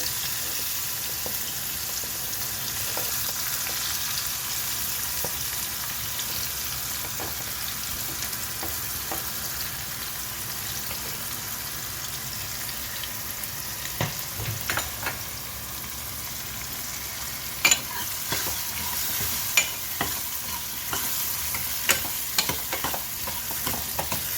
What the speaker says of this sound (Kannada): ಇವಾಗ ಈರುಳ್ಳಿ ಹಾಕ್ತಾಯಿದ್ದೀನಿ.